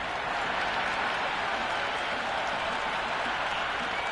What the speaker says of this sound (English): all these spectators here today completely enthralled and energised, judging by that noise anyway